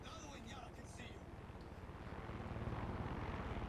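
Helicopter in the video game Far Cry 6 setting down on a helipad, a steady rotor thrum and engine roar that grows louder toward the end, with a voice talking over it.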